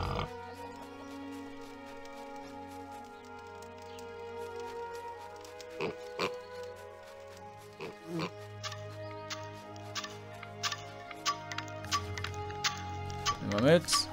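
Pigs oinking in the fantasy game Balrum, short grunting snorts over a sustained musical background, with clicks and taps growing busier toward the end, and someone talking at times.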